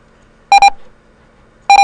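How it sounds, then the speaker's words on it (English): Two short electronic beeps, each a quick double tone, spaced over a second apart against a quiet background. "Silence your alarm, and you have to reset the trip."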